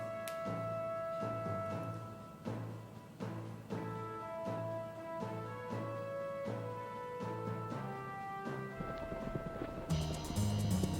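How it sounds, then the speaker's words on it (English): Rhythmic horse hoof clip-clops repeat steadily alongside tonal music in a horse racing video game, ending with a burst of noisy cheering or crowd sound. "The horses are on the track."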